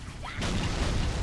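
A grenade goes off in the Halo 2 video game, a sudden broadband blast that starts a moment in and then rumbles on as loud, dense noise to the end.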